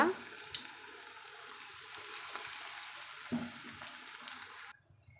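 Leftover idli pieces frying in hot oil for crispy pakoda, a steady soft bubbling sizzle with faint stirring and clinks, cutting out near the end.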